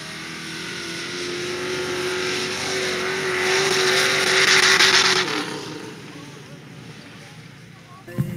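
Mud drag racing trucks launch at an outdoor event, among them a 2001 Jeep Cherokee with a turbocharged 4-liter six-cylinder. A steady engine drone swells to a loud rush and then fades. An announcer talks over it.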